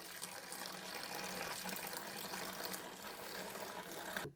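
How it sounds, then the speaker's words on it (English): Brewing wort splashes steadily as it is poured into a bucket, a continuous gushing, bubbling pour that fills the clip and stops abruptly at the end. "I'm not afraid to splash because it's good to get some oxygen in here"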